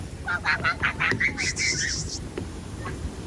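Birds at Hsinchu Zoo in Taiwan give a string of honking, goose-like calls in short repeated bursts, fairly close, with faint background voices and crowd noise.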